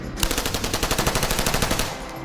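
A candy cannon rapidly firing sweets such as candy bars, M&Ms and candy corn: a fast, even burst of sharp, loud pops like automatic fire, lasting about two seconds before cutting off.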